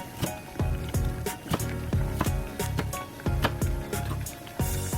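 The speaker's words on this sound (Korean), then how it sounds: "대파를 썬다." A knife slices green onion on a cutting board as stock simmers nearby, giving a series of crisp, close chopping knocks at an uneven, brisk rhythm with a soft bubbling bed beneath.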